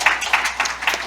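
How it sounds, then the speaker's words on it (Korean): A forum audience claps for five panel discussants, a short burst of several distinct handclaps in an uneven rhythm, fairly close and moderately loud. "먼저 수고해주신 5분에게 다시 한번 먼저 박수 부탁드리겠습니다"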